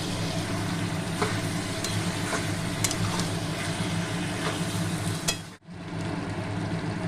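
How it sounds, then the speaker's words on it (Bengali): Mutton curry being stirred and sautéed in a pan: continuous loud sizzling and frying with scraping stirs throughout, cutting off abruptly near the end. "এখন আমি প্রায় 24 মিনিট মতো কষাতে থাকবো।"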